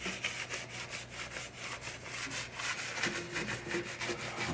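Rag rubbing naphtha over grimy surfaces of a 1973 Williams Travel Time pinball machine, a steady rhythmic scrubbing swish repeated in quick strokes, close up and continuous, with no talking.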